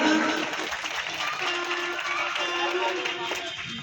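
An audience at a devotional Bhagwat katha gathering applauds, a crowd of many hands clapping mixed with a sustained sung or spoken tone and some murmuring voices.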